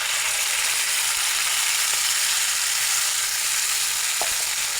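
Onions with ginger and dried chilli paste frying in a pan for a spicy Bombay duck fish curry, a loud, continuous close-up sizzle with a couple of faint stirring clicks.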